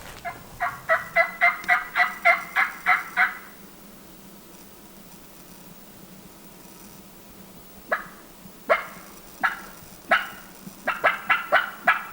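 A rapid series of sharp, yelping calls in the Black Hills of Wyoming during a turkey hunt, a clear burst of about a dozen, then scattered and more distant bursts after a pause.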